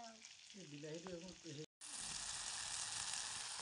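Tomato with salt and turmeric sizzles in a pan for fish chutney. A voice is heard briefly at first, then after a short cut a loud, steady frying hiss continues alone.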